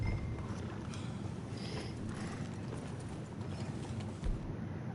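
A horse's hooves clip-clop in Red Dead Redemption 2, a soft, steady walking rhythm set faintly under a quiet, continuous outdoor ambience.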